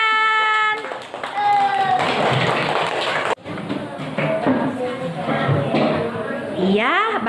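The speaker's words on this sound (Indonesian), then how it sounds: "Kasih tepuk tangan" Students clapping their hands in an Indonesian classroom after a presentation, with bursts of sharp, close claps and children's voices talking and calling out around them, then a short break before more clapping.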